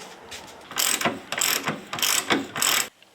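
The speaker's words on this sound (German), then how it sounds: "Jetzt können wir die Schrauben mal ein Stück rausnehmen." A hand ratchet loosens bolts on the control arm crossmember of a Porsche 911 SC, giving close, loud bursts of rapid clicking pawl strokes in a repeating rhythm, then stopping; no voices.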